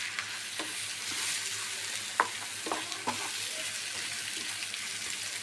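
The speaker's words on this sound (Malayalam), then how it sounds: "2 മുട്ട അതിലിടാം. നന്നായിട്ട് ചിക്കി കൊടുക്കാം." Two eggs scrambled in a hot frying pan, a constant soft sizzle with a few sharp scrapes and taps of a spatula stirring, close and quiet, alone without talk.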